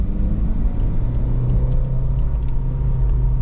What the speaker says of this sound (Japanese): 音としてはうるさくないのに、心地よくエンジンサウンドが響いてきます。